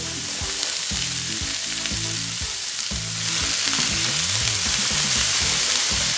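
Onions, garlic, carrots and celery fry together in a pan, making a constant broad sizzle under loud background music that has a melody and beat, with no voices.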